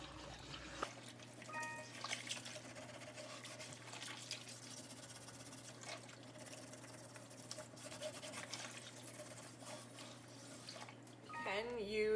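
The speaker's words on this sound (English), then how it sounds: "I'm just gonna wash it here, put it in your sink, wash it like you would normally wash a pan." An Atlas Steel pan is washed under running water in a kitchen sink, with a steady, moderately loud stream of water and scrubbing running throughout and a low background hum.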